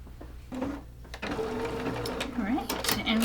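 Sewing machine joining quilt block pieces, a steady close mechanical whir and needle patter running beneath a voice talking throughout.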